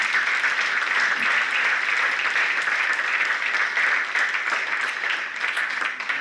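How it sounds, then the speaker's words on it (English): Sustained applause from a large banquet audience in a hotel ballroom at a veterans reunion, steady and dense throughout, loud and close without any speech over it. "Let's give them a round of applause."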